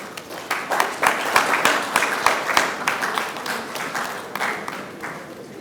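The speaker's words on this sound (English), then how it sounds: "I believe we will make the applause a bit louder for the Secretary of State" Applause rises at a 64th Independence press briefing in Nigeria, a crowd clapping in a lively, uneven burst that swells and then tapers off.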